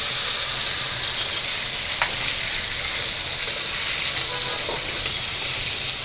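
Spices fry together with stems and potatoes in a pan, giving a loud continuous sizzle and hiss with a few light stirring taps.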